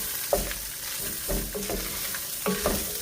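Liquid swishes and scrapes around inside a tomato paste can in a home kitchen, giving several irregular sloshing strokes up close with a faint sizzling wash underneath, and no talking.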